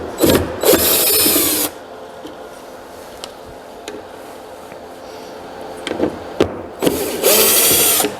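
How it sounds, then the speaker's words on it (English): A power drill whirs in short bursts as small drawer pulls are removed from a teak potter's bench, loud and close, with quieter tool handling and light clicks between the drilling at the start and end. "I'm gonna take these little drawer pulls off."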